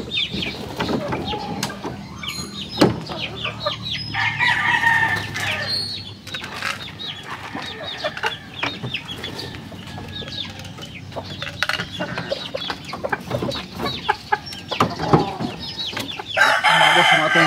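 A rooster crows several times and chickens cluck and flap their wings close by on a farm, with a faint voice now and then in the background.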